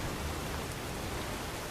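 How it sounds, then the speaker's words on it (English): Steady rain falls in the Mini World game, a dense even hiss with no pauses, moderately loud and alone. "it's apparently now raining"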